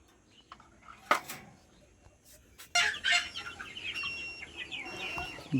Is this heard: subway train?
no